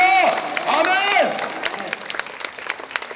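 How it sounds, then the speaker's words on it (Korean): A church congregation at Sunday worship breaks into applause, a short burst of scattered clapping that follows a voice and then thins out. "한번 더 영광의 박수를 돌려드립니다."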